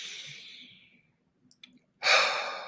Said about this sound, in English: let's just take a deep breath and center